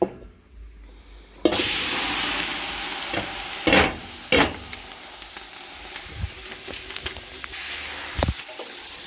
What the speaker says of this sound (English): you're just sauteing your veggies in it